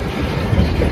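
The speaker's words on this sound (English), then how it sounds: "But this is the longest train I have ever seen up here." A very long freight train rolls past on the Cleveland and Cuyahoga Railway short line, giving a steady, continuous low rumble with faint rail clatter throughout.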